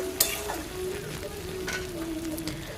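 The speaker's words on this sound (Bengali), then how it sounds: "রসুন আর আদার পেস্টও তো দিয়ে ভালো করে এটাকেও আমি একটু কষিয়ে নেব" Garlic and ginger paste sautés in a pan for a fish kalia, giving a steady close sizzle with light stirring scrapes and a sharp tap near the start.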